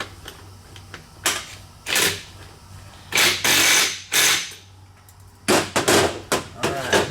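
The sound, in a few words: impact wrench tightening fork bolt on Suzuki V-Strom 650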